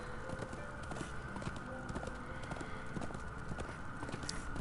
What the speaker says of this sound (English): I'm enjoying just riding on my horse.